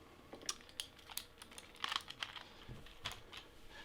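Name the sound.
Sega Saturn controller buttons clicking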